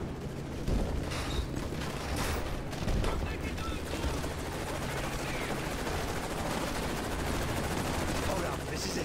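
Repeated gunfire in a Call of Duty: Modern Warfare 3 firefight, with loud shotgun-like blasts from a breach shotgun over dense continuous battle noise and a voice talking through it.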